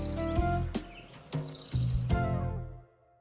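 A high, sustained bird call rises and repeats twice, ringing loud and close with a soft clicking texture before fading to silence.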